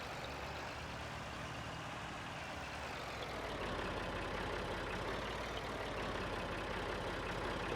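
Small tractor in Farming Simulator 19 towing a plow on a New Zealand farm map: a steady, close diesel drone that thickens and grows rougher partway through as the engine load rises, with no voices.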